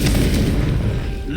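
A loud, dense explosive boom with rumbling blasts from the Confringo fire spell in the video game Hogwarts Legacy, filling the whole short moment.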